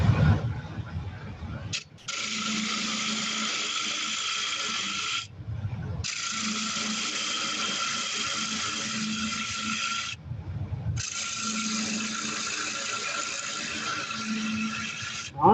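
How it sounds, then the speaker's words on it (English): Lathe tool cutting wood on a staved bead box, driven by friction between lid and box; a steady harsh whirring scrape runs in three long passes separated by brief pauses. "I'm cutting a lot of wood"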